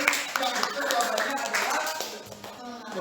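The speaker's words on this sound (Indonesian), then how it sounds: "Tepuk tangan buat kelompok nanas." A classroom claps for a student group during a madrasah lesson, a short burst of scattered hand claps mixed with children's voices and talk.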